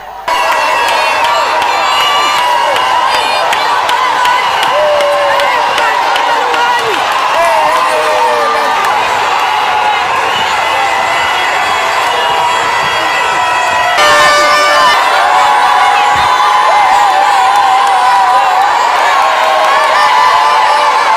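A large, dense crowd lining the Tshikapa–Kanjadi road cheers, whoops and claps steadily and loudly throughout, with children's shouts mixed in, swelling slightly toward the end.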